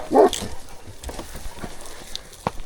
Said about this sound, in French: Bon, ils sont pas contents les toutous.